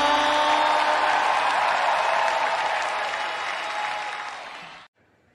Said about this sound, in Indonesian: Memberikan sorak-sorai yang paling meriah bagi Tuhan